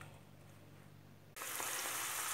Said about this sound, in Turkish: Evet, soğanlarımızı zeytinyağımızı güzelce kavurduk.